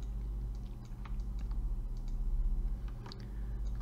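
Close computer keyboard typing in node-editing software: a steady patter of crisp key clicks with brief pauses, with no voices over it.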